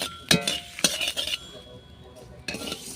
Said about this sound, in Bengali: দুটো শুকনো লঙ্কা দিয়ে বাকি যে গোটা মশলাগুলো আছে সেগুলো আমি ভালো করে ভেজে নেব